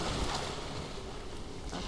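Water in the video game Tomb Raider, heard as a steady, rushing wash like waves or flowing water, with no voices over it.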